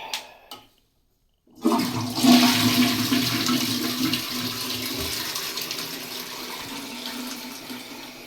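A household bathroom toilet flushes loudly after a brief pause, its rushing, gurgling water filling the rest of the clip at close range.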